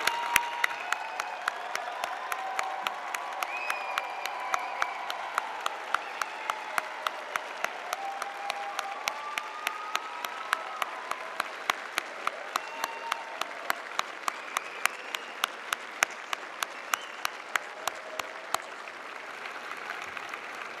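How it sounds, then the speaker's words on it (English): A crowd gives law school graduates a standing ovation at a university spring commencement, with sustained, dense clapping that stays steady for about twenty seconds. Faint cheers rise from the crowd now and then. "Please join me in celebrating these graduates with a standing ovation if you're able"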